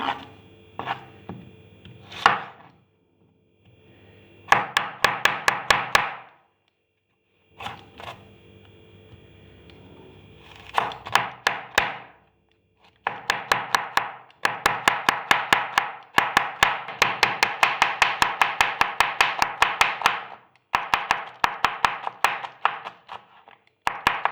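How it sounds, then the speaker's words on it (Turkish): Onion being chopped for a Turkish bean salad, knife striking a board in quick bursts of rapid, crisp taps separated by short pauses, close and fairly loud with no talking. "Şimdi soğanımı doğruyorum."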